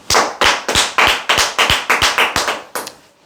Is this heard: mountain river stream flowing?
no